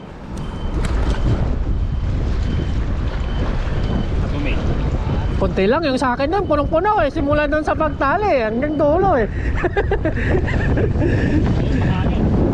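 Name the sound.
wind at sea on a fishing boat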